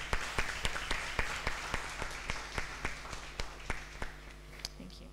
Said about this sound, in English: can I please get a warm round of applause for Niyi?